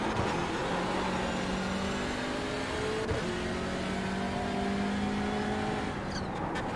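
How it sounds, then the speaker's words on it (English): Mazda MX-5 race cars at the Nurburgring during an endurance challenge: a continuous engine drone with overlapping rising and falling pitches as several cars accelerate and pass, heard moderately loud without speech. "The little MX-5s are good in the twisty bits."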